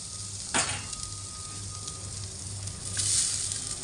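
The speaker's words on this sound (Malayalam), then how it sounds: "ഉലുവ നമുക്കൊന്ന് വറുത്തെടുക്കാം" Steady crackling sizzle of fenugreek seeds dry-roasting in a hot pan, with a brief scraping stir near the start and another toward the end.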